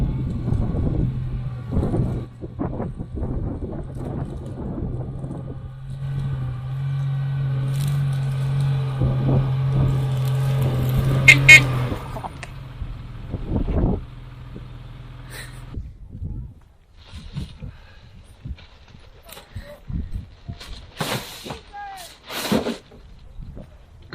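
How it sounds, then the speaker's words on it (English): A Unimog garbage truck drives past along a riverside during a clean-up, giving a steady low engine drone for about fifteen seconds. Scattered clatter and a few nearby voices break in, and the engine sound fades out afterward. "There comes the garbage truck."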